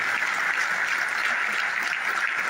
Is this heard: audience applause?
yes